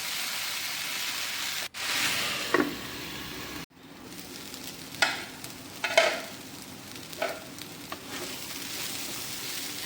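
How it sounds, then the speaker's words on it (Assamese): Water hyacinth flowers fry in hot oil in a pan, giving a steady soft sizzle broken by a few sharp crackles and stirring scrapes, close by with no voices. "এয়া ফুলকেইটা দি অলপমান সময় ভালদৰে ভাজি ল'ম"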